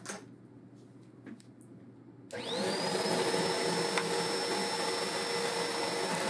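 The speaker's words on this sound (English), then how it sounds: "Now I have a vacuum and an air compressor set up" A quiet room, then a vacuum cleaner switches on with a rising whine and settles into a loud, steady roar close by.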